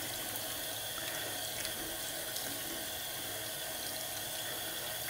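Tap water runs steadily as a G-Shock watch is rinsed under a faucet after washing off grease with dish liquid, a constant close hiss of flowing water with no voices.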